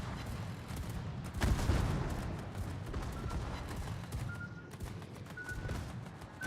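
Secondary guns on a warship in a naval battle video game pop and thud in scattered rounds, with one heavier blast early on, all under a constant rumbling battle ambience with no talking.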